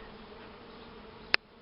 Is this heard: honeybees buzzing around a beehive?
yes